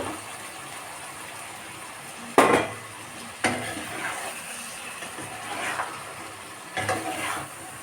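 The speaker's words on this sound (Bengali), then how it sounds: "এর মধ্যে আমি দিয়ে দেবো মাংসটাকে মাংসটাকে দিয়ে ভালো করে আরও কষবো" Chicken stirred and fried in spice masala for Bengali chicken kosha, with a few scattered scrapes and clanks of a spatula against the pot over a low, steady frying hiss, no talking.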